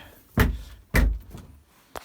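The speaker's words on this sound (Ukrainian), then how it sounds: "Не можу відкрити двері." A door being forced open at a chicken coop in freezing weather, with two loud heavy thuds, a softer third knock and a brief final tap.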